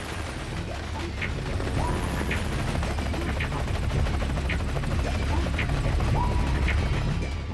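A cartoon helicopter lands on a train with a continuous rhythmic rotor chop, rapid and mechanical, holding steady and fairly loud throughout amid a dense rumbling background.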